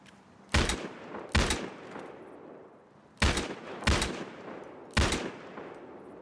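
Single gunshots from a player's weapon in the video game Battlefield Hardline, fired in two pairs of sharp, loud reports with short echoing tails and a pause between the pairs.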